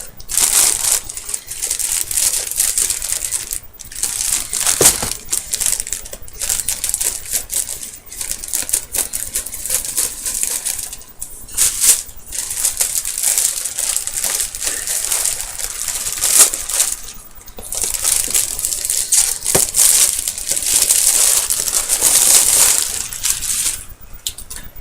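Stiff plastic packaging on a Godzilla toy being cut and pulled open with scissors: a steady stream of close, loud crinkling, crunching and snipping with scattered sharper cracks, and no talking.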